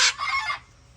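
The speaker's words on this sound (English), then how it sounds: "Look at that happy bird." A pet hen gives a single short, loud cluck, up close and on its own in a yard.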